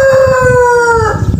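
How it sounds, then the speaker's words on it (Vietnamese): A rooster crows loudly and close by at noon in a rural Vietnamese setting, one long wavering call over a background of other birds clucking and chattering. "buổi trưa gà nó gáy kinh quá mọi người, gáy ồn luôn mà"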